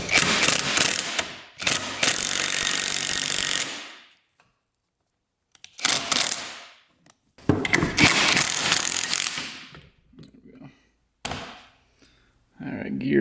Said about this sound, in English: let's see if we can get this off with a puller